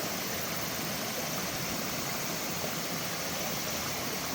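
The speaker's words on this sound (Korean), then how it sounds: "물소리가 시원합니다." Clear mountain stream rushing over rocks at the entrance to Mansu Valley on Woraksan, a steady, dense broadband wash of flowing water with no gaps, close and even throughout.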